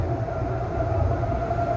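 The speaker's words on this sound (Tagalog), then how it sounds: "So every time may dumadaan na tren, gising ka na, sigurado." A train rumbles past close by, a steady heavy roar of rail noise with no talking.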